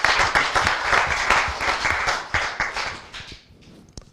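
Audience applause at a televised cycling awards event in Rossano Veneto, dense steady clapping from a crowd that thins and fades out after about three seconds, leaving a few scattered claps.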